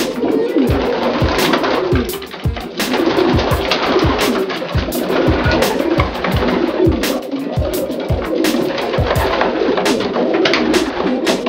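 Racing pigeons bred for overnight flights coo in their loft, many overlapping soft throaty calls rising and falling continuously and close by, with frequent sharp knocks and wing flutters among them.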